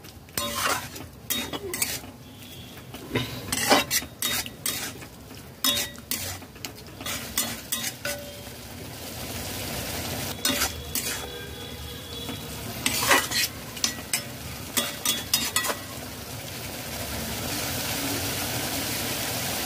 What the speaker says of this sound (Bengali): গ্যাস অন করে দিলাম, লো ফ্লেমে নাড়তে হবে।